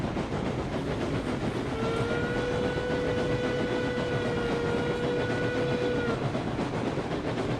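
A short train runs on rails in Railroads Online, rolling steadily with a continuous rumble. A sustained whistle sounds through the middle of the run, with no voices.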